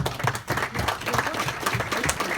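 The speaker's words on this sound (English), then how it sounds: "Your round of applause." Audience applause at a public gathering with a congressman, steady dense clapping throughout at a consistent moderate level, with no speech over it.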